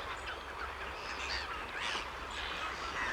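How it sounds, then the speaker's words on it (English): Gulls in a flock call over the evening tide on a seaside coast path, scattered distant squawks and cries layered over a continuous wash of wind and waves. "Majestic flock of gulls on the evening tide."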